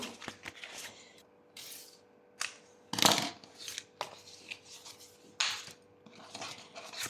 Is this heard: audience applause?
no